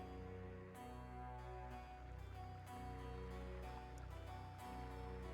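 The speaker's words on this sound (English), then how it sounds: "You can't hear very well over the sound of the river" A steady wash of river water flowing in a video game, a continuous broadband rush with a faint tonal music bed underneath, holding at an even level throughout with no talk.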